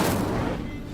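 Incendio fire spell cast in Hogwarts Legacy: a loud, whooshing burst of flame that fades over under a second.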